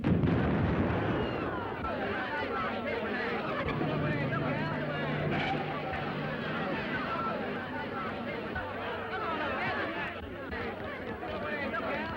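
A bomb blast in a 1936 film, heard as a dense, rumbling roar that fills the scene and slowly settles into a sustained, muffled din, loud and enveloping over an old, hissy soundtrack.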